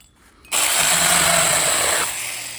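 A miniature chainsaw snaps to life and buzzes steadily through a branch for about a second and a half, then drops to a lower idle. The sound is close and sustained, with no talking.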